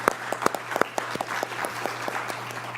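Scattered clapping at a UCSF liver transplant conference, with distinct individual claps over a steady low hum, moderately faint and fairly sparse across a few seconds.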